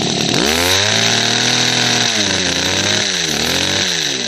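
A two-stroke chainsaw engine, its fuel-air mixture being adjusted, drones loudly and close, its pitch rising and dipping through several quick revs and cutting out.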